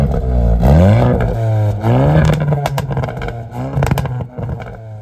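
A Hyundai i20N engine revs hard and close, its pitch rising and falling through several strong throttle blips before it settles into a rough, loud drone with clattery edges.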